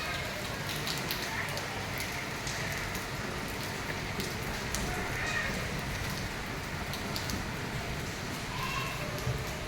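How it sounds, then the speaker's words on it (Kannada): Steady rain falls continuously, a dense patter on surfaces all around, close and even throughout, on an afternoon that had been hot and sunny. "ಚೆನ್ನಾಗಿ ಮಳೆ ಬರ್ತಾ ಇದೆ."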